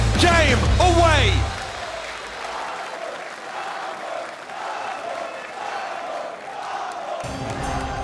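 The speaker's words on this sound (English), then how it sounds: "The crowd is electric." Esports arena crowd at the Brawl Stars World Finals roaring and applauding, a dense sustained wash of cheering and clapping that carries on under an excited commentator's voice.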